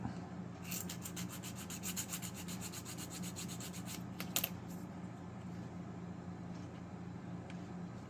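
Light back-and-forth sanding on a small wooden part of a Model Shipways dory model, a faint, steady rubbing close by with a brief sharper scrape near the end, no voices.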